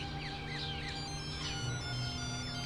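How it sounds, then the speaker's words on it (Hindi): A telephone rings with a continuous electronic ringtone of bright, sustained tones and warbling chirps, loud and close, with no one speaking. "फोन बज रहा है"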